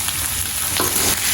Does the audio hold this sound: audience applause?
no